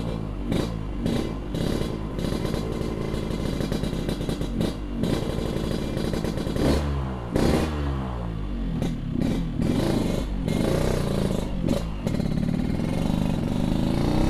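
A Yamaha RX King two-stroke motorcycle with a freshly repaired exhaust runs steadily up close, with a raspy buzzing note and a couple of revving swells throughout.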